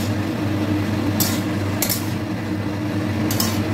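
Tomato, eggplant, pointed gourd and green chilli are stirred in a pan, with a steady cooking rumble and a few sharp metallic clinks and scrapes of the utensil against the pan.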